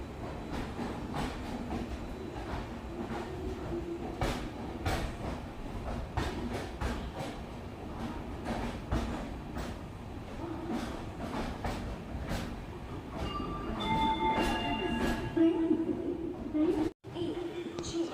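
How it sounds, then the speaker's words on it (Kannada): Train pulling into platform 10 at Majestic railway station, with steady rumbling wheel noise and rhythmic clicks over the rails, a brief squeal near the end, and people talking aboard. "ನಮ್ಮ ಟ್ರೈನ್ ಈಗ ಪ್ಲ್ಯಾಟ್ಫಾರ್ಮ್ ನಂಬರ್ 10ಕ್ಕೆ ಮೆಜೆಸ್ಟಿಕ್ ರೈಲ್ವೆ ಸ್ಟೇಷನ್ಗೆ ಎಂಟ್ರಿ ಆಗಿದೆ"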